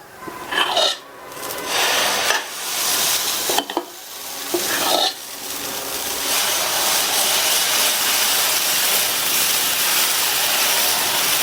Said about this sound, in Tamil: தோசைக்கல் போட்டு நல்லா சூடானதுக்கு அப்புறமா இதில் கொஞ்சமாக எண்ணெய் விட்டு நல்லா இந்த மாதிரி ஸ்ப்ரெட் பண்ணி விட்டுட்டு தோசையை ஊற்றிடலாம்.